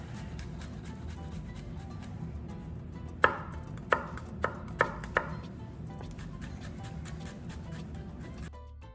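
A knife makes a few short lengthwise cuts into food on a cutting board while preparing lentils with chorizo and morcilla, five crisp separate knocks standing out over a steady kitchen hum, with no talking.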